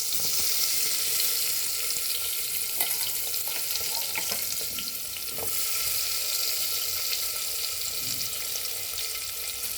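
Chopped onion frying in hot oil with turmeric for a green mutton curry gives a steady, close, bright sizzling hiss throughout, with a few faint stirring taps.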